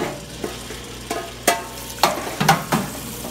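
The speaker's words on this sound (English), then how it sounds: "just scrape it against the bottom of the fryer like so" A metal strainer scraped repeatedly along the bottom of a commercial oil fryer during filtering, giving a series of sharp scraping and clinking strokes at an irregular rhythm, close up, with no talking.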